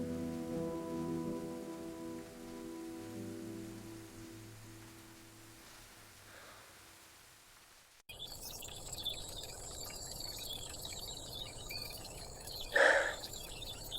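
Heavy rain falls in a steady, dense hiss that starts abruptly after a quieter opening stretch of soft tones. It stays loud and continuous, with a brief louder burst near the end.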